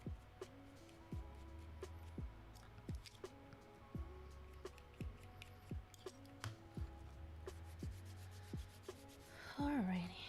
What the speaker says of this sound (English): Continue to sand.